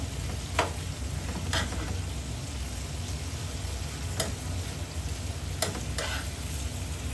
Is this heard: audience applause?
no